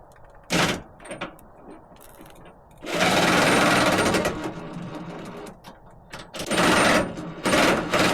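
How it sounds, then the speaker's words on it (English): Impact wrench driving a suspension bolt on a Ford F150 Tremor during a Road Active suspension install, heard as two loud sustained bursts of whirring and hammering with brief clanks between them, close up with no talk. "Let's try and impact this in."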